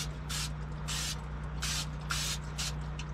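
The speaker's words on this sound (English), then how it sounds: "I'm going to spray my pan with non-stick cooking spray" Non-stick cooking spray is sprayed onto a baking pan in five short hissing bursts, close and crisp, over a low steady hum.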